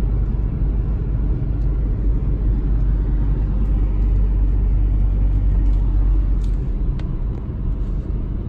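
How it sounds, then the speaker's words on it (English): A 2002 BMW E46 M3 with the S54 engine drives and accelerates, giving a steady, loud, close engine rumble and road drone throughout without any talk. "S54 motor opens up."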